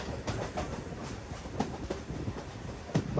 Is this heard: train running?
yes